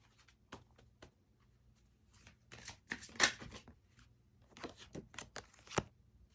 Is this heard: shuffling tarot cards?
yes